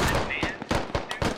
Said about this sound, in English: I hear shotguns.